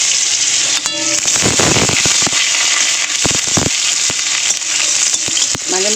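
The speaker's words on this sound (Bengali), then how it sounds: "আগে তেলের মধ্যে দিয়ে দেবো শুকনো লঙ্কা ফোড়ন, দিয়ে দেবো কটা তেজপাতা, আর দিয়ে দেবো একটু রসুন থেতো করা" Dried red chillies, bay leaves and crushed garlic crackle and spit in hot oil, loud and close, with sharp popping bursts over a constant sizzle.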